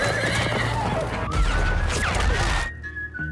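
A horse neighs loudly in a cinema film trailer, a long whinny rising over a dense mix of hoofbeats, crashes and booming trailer sound effects.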